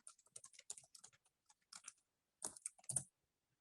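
Fingers type on a computer keyboard in faint, quick, irregular bursts of clicks with brief pauses between them, with no voice over them.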